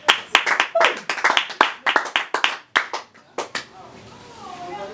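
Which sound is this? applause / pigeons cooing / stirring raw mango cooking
applause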